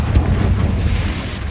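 A deep rumbling blast from the Confringo fire spell in the video game Hogwarts Legacy, a loud low roar with windy noise that holds steady and barely fades over a second and a half.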